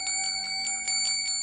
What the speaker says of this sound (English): She rings a bell.